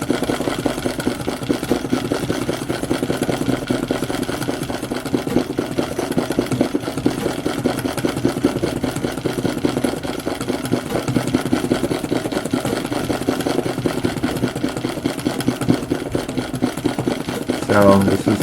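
A White Rotary treadle sewing machine with its feed dogs removed stitches fabric for abstract machine embroidery, giving a steady, fast mechanical clatter that runs continuously and close throughout.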